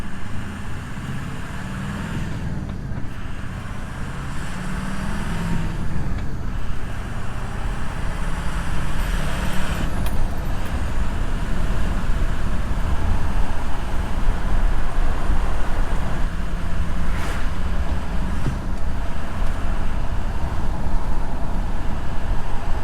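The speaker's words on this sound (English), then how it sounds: "Now hopefully my microphone is able to pick up some of the turbo sounds." Ford F350 six-speed diesel truck driving with the windows down, a steady broadband engine and road roar rising and holding loud throughout, with faint turbo whine mixed into the drone.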